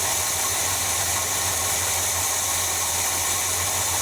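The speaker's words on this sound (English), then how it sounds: "It's idling." A 1978 Squarebody truck engine idling with a fresh fuel filter, a steady, low rumbling drone that holds constant and close with no talk over it.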